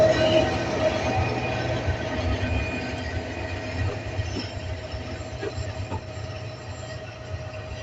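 An intercity train of thirteen carriages pulls out of Tongi railway station, its diesel engine giving off black smoke as passengers crowd the roof; steady, fairly close rolling rumble with faint wheel clatter and occasional squeals throughout.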